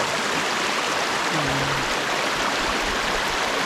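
A small river stream flows close by with a steady, dense rushing wash that never lets up, and a faint voice surfaces briefly in the middle.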